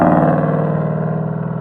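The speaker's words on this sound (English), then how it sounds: "loud cars" Loud car engines revving with a steady, rough drone that slowly fades over less than two seconds, heard alone without talk.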